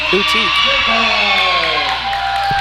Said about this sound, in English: Wow, this crowd is loud.